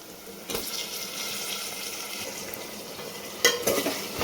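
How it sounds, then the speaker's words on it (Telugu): Ginger garlic paste and chopped tomatoes frying in oil, a soft steady sizzle with two sharp bursts as ingredients hit the pan and are stirred. "అల్లం వెల్లుల్లి పేస్ట్ కొంచెం ఫ్రై అయిన తర్వాత ఇప్పుడు కట్ చేసి పెట్టుకున్న టమాటా వేసుకోవాలి"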